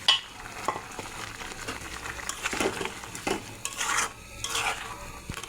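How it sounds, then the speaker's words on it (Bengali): Fried carp and raw tomato simmering in a boiling broth, with uneven bursts of bubbling and stirring, spoon scrapes and clinks of metal on the pot, close and fairly loud with no talk. "ঝোলের সঙ্গে মাছটা আবার ফুটিয়ে নেব।"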